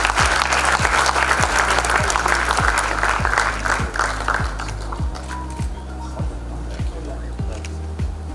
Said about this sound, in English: let's put our hands together for another round of applause